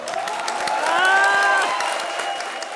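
A studio audience at a televised comedy show breaks into steady applause and crowd noise, with a brief sustained tonal note rising over the clapping before it settles.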